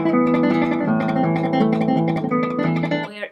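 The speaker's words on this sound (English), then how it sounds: "the tremolo can sound something like this" Classical guitar plays a tremolo passage from Recuerdos de la Alhambra unevenly, each note cut short and muted early, giving a choppy staccato pattern, close and clear with no talk.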